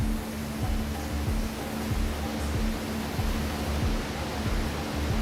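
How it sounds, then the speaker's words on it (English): Coolant sprays in all directions inside a horizontal milling machine, a loud dense broadband hiss with a faint rhythmic low thumping beneath and no voices. "Coolant is fired in all directions."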